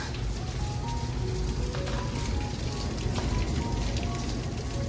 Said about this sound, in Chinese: 现在风停了，下雨，打雷。